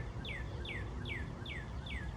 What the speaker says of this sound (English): This red bird cannot keep quiet.